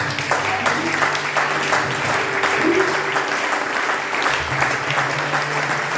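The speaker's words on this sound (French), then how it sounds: "Si on peut l'acclamer, s'il vous plaît." A church audience applauds a pastor in steady, sustained clapping that fills the room at an even level throughout, with a faint voice underneath.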